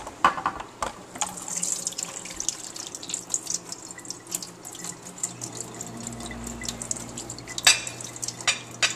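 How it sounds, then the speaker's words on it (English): Running water pours into a sink as a mixture is strained, a steady close splashing rush with scattered drips and clinks, no talk over it. "come over here, over the sink, and watch us strain it"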